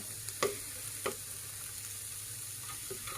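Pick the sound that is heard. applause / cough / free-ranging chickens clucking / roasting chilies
roasting chilies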